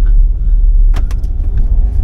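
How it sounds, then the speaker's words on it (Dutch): Car cabin while driving early in the morning, with a steady low road rumble and engine drone throughout and a few faint clicks and rattles over it, and no one talking. "Zo, we zitten in de auto."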